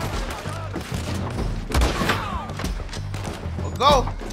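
Gunfire in the Red Dead Redemption 2 video game, a volley of sharp shots and heavy thumps over several seconds with a loud crash near the end, while people talk throughout.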